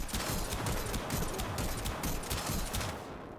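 The Staticor energy weapon in Warframe fires a rapid, dense stream of crackling energy bursts, loud and continuous for several seconds before tapering off slightly at the end.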